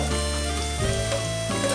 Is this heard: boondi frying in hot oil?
yes